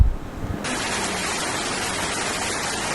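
Heavy continuous rain pouring down, a dense broadband hiss that stays steady and loud after a brief rougher start.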